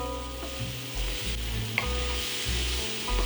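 Carrots and peppers sizzle and sweat in a pot for a vegetarian brown rice and chickpea pilau, a continuous close frying hiss broken by stirring scrapes and clunks, with no voices.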